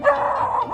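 A young border collie puppy lets out a single short, close bark, sharp at the start with a brief tail.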